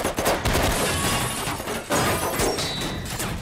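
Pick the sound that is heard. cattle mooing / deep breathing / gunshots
gunshots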